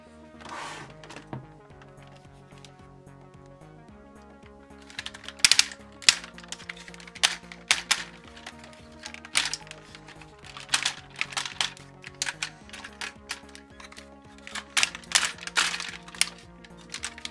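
A Transformers Cybertron Primus toy with ratcheting joints being moved: irregular series of crisp clicks that start after a quiet stretch and come in close bursts of rapid ratchet snaps, near and dry, with no talk.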